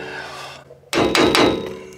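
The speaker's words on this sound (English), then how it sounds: "And use a brass mallet." A brass mallet strikes a trailer bearing tube to knock it off, giving several loud metallic knocks in quick succession after a short quiet moment, close by.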